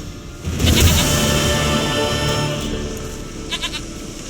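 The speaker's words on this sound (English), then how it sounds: "Goat of mine, dearest, sweetest goat." A goat bleats in a fantasy video game, a wavering bleat that swells early, holds over steady game ambience and background music, then tails off with a few faint clicks near the end.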